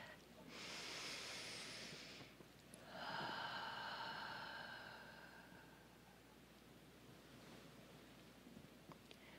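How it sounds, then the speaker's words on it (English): A single slow deep breath drawn in and let out by a speaker in a calm, reflective talk setting: a long soft inhale hiss followed by a steadier exhale, close and quiet with no speech. "Let's all take a deep breath."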